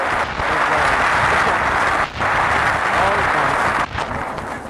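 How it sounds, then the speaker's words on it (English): Studio audience applause on the old-time radio variety show Breakfast at Sardi's, a loud, dense wash of clapping that runs steadily throughout, with two brief dips in intensity. "Nice round of applause."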